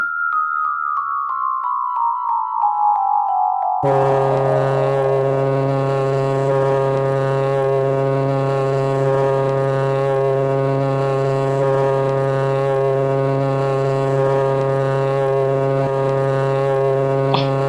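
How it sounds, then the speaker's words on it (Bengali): A horn (shinga) is blown in one long, loud, sustained blare, first as a falling tone and then as a deep steady drone that holds alone for many seconds. "ও অনেকটা ঠিক শিঙে ফোঁকার শব্দ মহারাজ"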